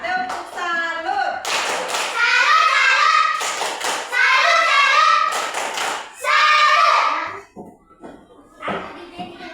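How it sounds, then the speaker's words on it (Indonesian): Schoolchildren clap out a rhythmic 'tepuk salut' chant in a classroom, sharp patterned hand claps in repeated bursts with young voices chanting along, close and loud. "Tepuk salut untuk kita semua."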